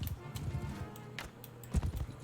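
Horse hooves clip-clop steadily in a video game, a quick even rhythm of close hoofbeats with a heavier thud near the end.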